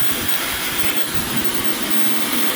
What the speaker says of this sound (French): Je vais venir faire chauffer avec mon sèche-cheveux.